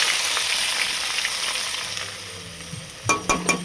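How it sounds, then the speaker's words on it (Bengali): Chopped onions frying in hot oil with spices, a steady soft sizzle throughout, then a few louder stirring clatters near the end. "এর মধ্যে পেঁয়াজ দেবো, কেটে রাখা পেঁয়াজ। এই যে পেঁয়াজ, এটার মধ্যে দিয়ে দেবো।"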